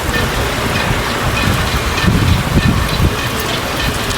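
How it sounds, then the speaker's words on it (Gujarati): Heavy monsoon rain, the first of the season, pours steadily at a constant loud level, a dense hiss of drops with some wind rumble and no voices. "અમે ફોક્સમાં તમને વરસાદ આવતો જોવા મળશે"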